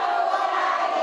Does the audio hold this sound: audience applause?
yes